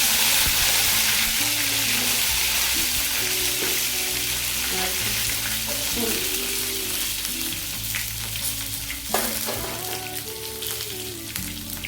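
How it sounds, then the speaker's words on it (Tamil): Onion frying in hot oil with cumin seeds and curry leaves for a black-eyed pea kulambu, a loud steady sizzle close by with occasional stirring scrapes, no speech. "ஒரு பெரிய சைஸ் வெங்காயம், வெங்காயம் நல்லா வதங்கட்டும்."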